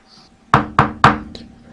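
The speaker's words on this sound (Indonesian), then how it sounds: "Suara pintu rumah Paman Wanto. Ada yang mengetuk." Three sharp, evenly spaced knocks on a house door ring out close and loud, then a fainter fourth tap follows.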